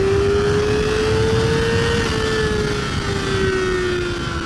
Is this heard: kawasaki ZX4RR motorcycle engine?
yes